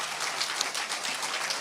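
A church congregation applauding during a sermon, a dense, steady wash of clapping hands filling the space at moderate loudness without pause.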